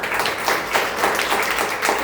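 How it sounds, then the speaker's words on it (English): Audience applause at a Nu Skin business opportunity presentation, dense steady clapping from a crowd filling the whole moment at fairly close range. "So please give them a round of applause."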